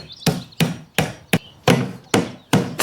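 A hammer strikes the spine of a knife to cut through a tough plastic jug, seven sharp, evenly spaced thwacks close up with no talking.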